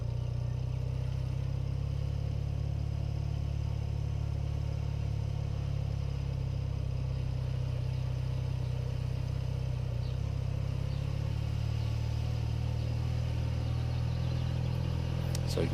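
A BMW R80 motorcycle rides along a road in the Christchurch Port Hills, its engine a steady, close low drone with wind rush, continuous throughout without noticeable shifts.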